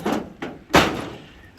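A wooden door being pulled free from a brick wall on a village house build site, heard as three close, loud knocks and thuds, with the last and heaviest impact trailing into a short scraping rumble.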